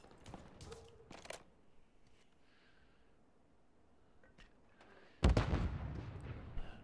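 Gunfire in a tactical shooter video game starts with faint distant pops and clicks, then a sudden loud, booming burst of shots near the end.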